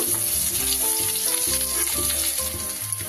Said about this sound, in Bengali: এবার এই তেলের মধ্যে আমি দিয়ে দেব কেটে রাখা আলু। আলুগুলো একটু ভালো করে ভেজে নেব।